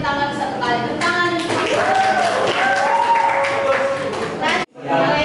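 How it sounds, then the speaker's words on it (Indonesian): Students in a classroom clap for a group, the applause brisk and close, with voices calling over it before a sudden brief break and a return of clapping. "Tepuk tangan dulu untuk kelompok ini."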